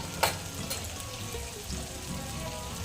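Chilli powder, turmeric and coriander-cumin powder roast in separated oil in chole gravy, a soft continuous sizzle and crackle with faint stirring close by.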